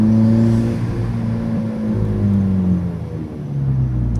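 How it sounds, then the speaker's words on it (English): A VW GTI Mark V with a Stage K04 turbo and APR tune idles and revs nearby, a low droning engine note with harmonics rising and falling steadily, loud and unaccompanied by talk. "this is a Stage K04 GTI Mark V with APR. That's why it does sound a little bit different."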